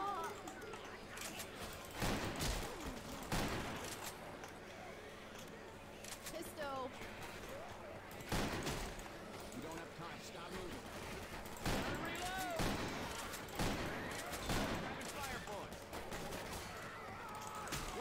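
Shotgun gunfire in Left 4 Dead 2 during the Swamp Fever campaign, several sharp, spaced blasts over busy game ambience with zombie cries, and someone talking at times.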